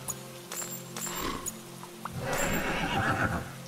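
Horse neighing and whinnying loudly alongside clip-clopping hooves in the medieval castle-building game Monarchy, set in dark woods, with a sustained whinny building toward the end over a steady background hum.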